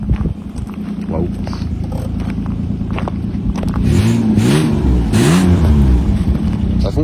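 An Alfa Romeo 164 V6 engine idles and then revs a few times, rising and falling swells over a steady running note, with people talking nearby.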